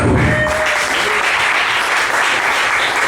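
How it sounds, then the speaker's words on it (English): Comedy-club audience applauds the bartender, a full steady wash of clapping from a crowd, opening with a brief trace of voice before the clapping continues alone. "how about a nice round of applause for Jason behind the bar?"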